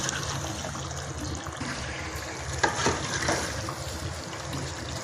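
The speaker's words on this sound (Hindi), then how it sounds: "बिल्कुल लो फ्लेम पे हम भून रहे हैं इसको।" Mutton masala for kadu gosht sautéing in a pan on a low flame, a steady soft sizzle and crackle with occasional stirring scrapes, close and continuous.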